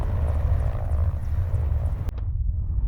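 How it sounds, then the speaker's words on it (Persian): Helicopter rotor and engine noise, loud and steady with a low droning throb, cut off abruptly near the end by a sharp transient, in an Iranian action film scene. "الیاس! برو دم هلیکوپتر"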